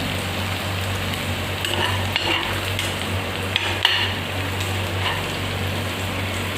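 Onions and garlic fry in a pan for a dry fish dish, producing a steady, hissing sizzle with soft stirring scrapes, close and continuous, with no voices.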